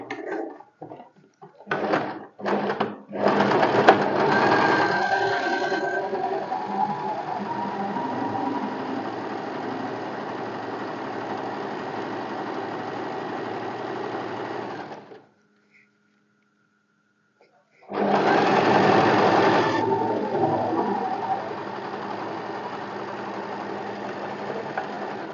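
A sewing machine stitches a deep-neck kurti with a steady mechanical whirring run, a few clicks as it starts, a short silent pause, then a second continuous run of stitching, close and clear.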